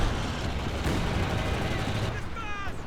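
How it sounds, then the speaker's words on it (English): Heavy mortar fire in Company of Heroes 2 during a 2v2 match, a dense continuous rumble of battle explosions and gunfire with commentary voices running over it. "that heavy mortar getting some great hits"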